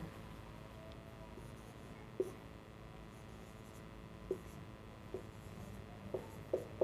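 Marker or pen writing letters on a board in a quiet room, faint steady strokes with a few soft taps at intervals, no talking.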